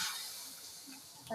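Water poured into a pan of hot frying vegetable curry sets off a loud, steady steam hiss that carries through the whole short moment, with a brief clatter near the end.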